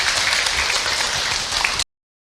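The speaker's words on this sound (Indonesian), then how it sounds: "Tepuk tangan Bu untuk Ustadz Abi." An audience of women claps steadily for Ustadz Abi after an Islamic lecture, a dense, even wash of applause that cuts off abruptly just before the end.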